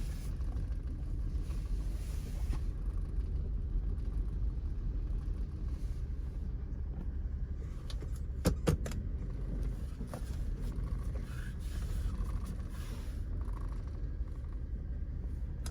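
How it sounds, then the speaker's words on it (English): A 2000 Toyota 4Runner with a 5VZ engine idles roughly with a misfire, giving a steady, close, low rumble with an uneven lope and a few brief clicks, with no one speaking. "Man, she runs bad."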